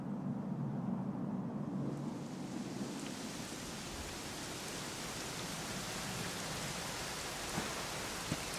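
Steady, heavy rainfall in the video game Dragon Quest XI S hisses evenly, with a low rumble fading out early on and a few faint drips on top.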